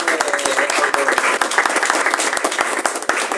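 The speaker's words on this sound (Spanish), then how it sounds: "Y un aplauso también" Audience at a book presentation during a book fair claps warmly, a lively burst of hand claps that holds steady for a few seconds, close and clear, with some voices under it.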